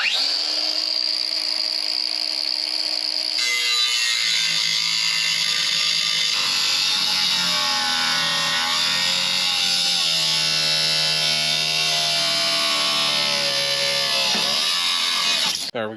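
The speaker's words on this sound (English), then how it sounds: "Got that part cut off with the angle grinder here." Battery-powered angle grinder cutting through thick steel for a Jeep ZJ bumper, a loud, continuous high-pitched whine whose pitch wavers as the disc bites, ending abruptly.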